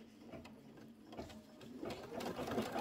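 An embroidery machine stitching a table runner, giving a fairly quiet, steady mechanical whirring with a rapid repeating needle chatter that swells slightly toward the end, with no talk.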